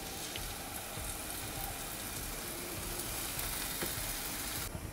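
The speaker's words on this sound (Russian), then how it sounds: "Начинаем жарить." A banana and egg mixture fries in a pan with a little sunflower oil on a stove, giving a steady, dense sizzle and crackle that stays even and close throughout, with no speech.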